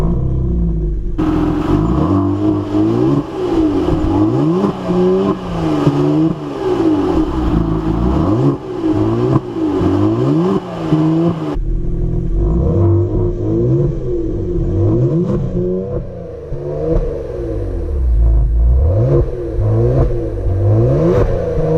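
A Kia Stinger GT engine revs repeatedly, rising and falling in loud sweeping pulls with a deep rumbling note, close and continuous with no talking, its tone shifting partway through.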